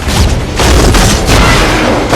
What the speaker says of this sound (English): Most of these explosions we just saw,